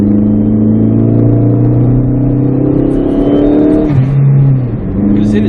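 Tuned Chrysler PT Cruiser with a Mopar Stage 1 upgrade, revving loud and close with rising, steady harmonic engine tones, then a sudden drop in pitch near the end as it shifts or lifts off.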